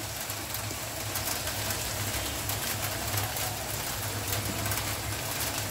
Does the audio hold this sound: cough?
no